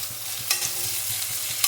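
Chopped onion, with curry leaves, coriander and a pinch of salt, frying in a pan for ugganiw, a steady close sizzle with soft rhythmic stirring scrapes throughout.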